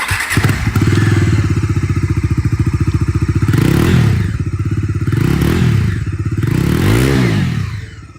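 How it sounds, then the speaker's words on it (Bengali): A Bajaj Dominar 250 motorcycle with a dual-barrel exhaust idles up close with a rapid, even thumping beat. It swells through a few throttle blips and then settles back. "চলুন এবার আপনাদেরকে আমি এখানে ডমিনার 250-র আওয়াজটা শুনিয়ে দিই"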